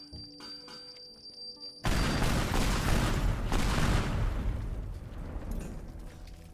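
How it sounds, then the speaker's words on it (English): Explosions in the game Teardown burst in loud and sudden after a quieter stretch, then roll on as dense rumbling blasts and crackling debris until the end. "let's get some nice explosions in here."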